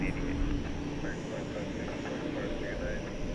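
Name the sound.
Cathay Pacific jetliner taxiing at DFW Airport at night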